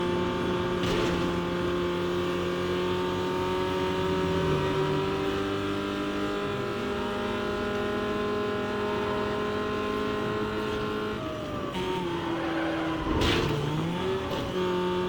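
A car engine in the racing game Need for Speed Most Wanted drones loudly and continuously with shifting pitch as it revs, rising and falling near the end with a brief tire squeal.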